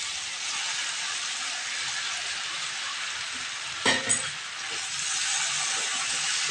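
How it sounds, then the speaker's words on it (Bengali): Sliced ridge gourd goes into potatoes already frying in a pan, and a loud, steady sizzle and hiss fill the scene, broken by a brief clatter as the pieces drop in. "তো বন্ধুরা দেখো আলুটা প্রায় ভাজা ভাজা হচ্ছে। এর মধ্যে আমি ঝিঙেটা দিয়ে দিচ্ছি"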